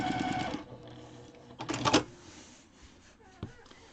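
A sewing machine stitches lace onto a quilt-as-you-go block, with a burst of stitching at the start, a quieter stretch, then a second short loud run before it stops, followed by faint handling sounds.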